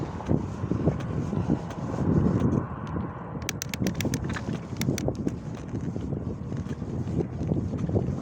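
Headwind buffets the microphone while cycling, a steady low roar with gusty swells, a few sharp clicks and rattles breaking through midway.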